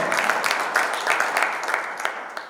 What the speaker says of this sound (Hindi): एक बार पूरा सदन ताली बजाकर आशीर्वाद दे इन कवियों को।